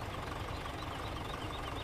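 Tractor engine idling in a farming simulator game, a steady, dense low rumble with a slight knocking texture, constant and fairly quiet, with no talk over it.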